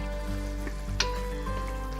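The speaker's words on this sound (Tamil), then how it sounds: "ஸோ இப்போ பார்த்தீங்கன்னா இந்த மாதிரி தளதளன்னு கொதிக்கும்" Tomato thokku, a thick Tamil tomato relish, bubbling and sizzling steadily in a pan, with a soft crackling spurt near the middle of a close, continuous simmer and no talking.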